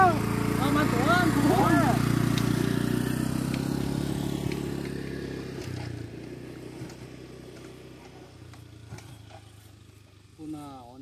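A stalled motorcycle's engine runs loud and close at first, then gradually drops away and fades out, while people talk nearby.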